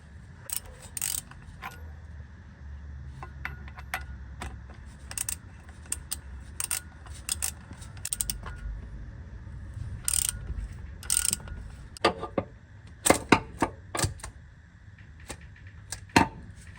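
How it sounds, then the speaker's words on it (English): A ratchet loosens the drive shaft bolts on a Lexus LS430, giving bursts of sharp clicking over a low background hum, with the clicks grouping more densely toward the end. "I'm just gonna go down this way before I spin the drive shaft and take off these two."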